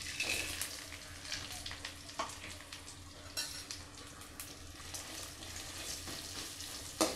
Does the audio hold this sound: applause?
no